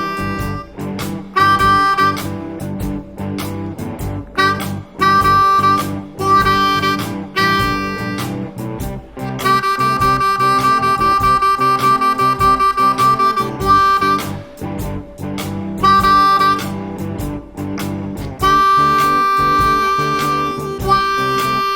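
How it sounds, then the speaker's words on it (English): Blues harmonica improvises around the 2 draw over a 12-bar blues, loud and close, with wailing bent notes in phrases broken by short pauses and no voice. "we're going to start with the 2 draw and try improvising over a 12-bar blues"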